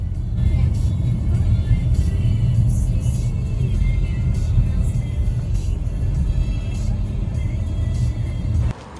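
Steady, close road noise of a car being driven to a café near Bukovel, with loud low engine and tyre rumble filling the whole stretch, easing slightly at the very end.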